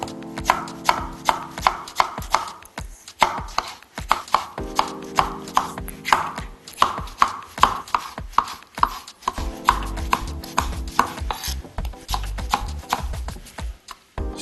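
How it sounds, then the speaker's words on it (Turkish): A knife chops tomatoes into chickpea-sized pieces rapidly and steadily on a cutting board, brisk repeated thuds in quick bursts with brief pauses between, close up and with no talking. "Şimdi domateslerimi şöyle nohut büyüklüğüne doğrayacağım."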